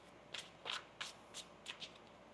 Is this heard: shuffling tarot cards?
yes